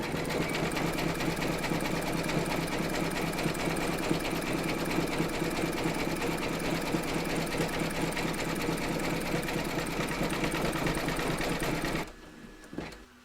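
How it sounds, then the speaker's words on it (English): An embroidery machine sews a satin-stitch zigzag border around a coaster's centre fabric, a steady, rapid mechanical whirring and tapping that runs loud and unbroken for about twelve seconds, then stops abruptly. "you're going to stitch round number 5, and that's going to zigzag the edge here"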